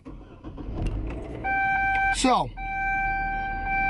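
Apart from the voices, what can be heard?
car warning beeping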